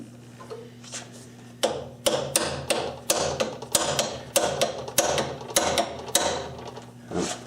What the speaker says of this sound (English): let's see if we can kind of give this a little bit more of a whack here